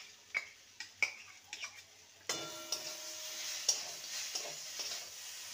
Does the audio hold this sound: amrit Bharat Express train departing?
no